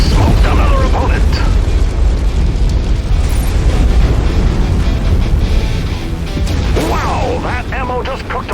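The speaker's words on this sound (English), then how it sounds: "Wow, that ammo just cooked off. That was the bomb." Ammunition cooking off in a mech explosion in Mechwarrior 5: Solaris Showdown, a loud, sustained roaring blast with rumbling debris and crackling bursts mixed with game mechanisms and voice chatter.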